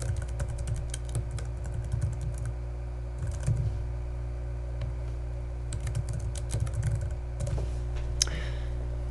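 Typing on a computer keyboard to enter a name on a presentation title slide, with quick irregular clusters of soft key clicks close by over a low steady hum, with no talk.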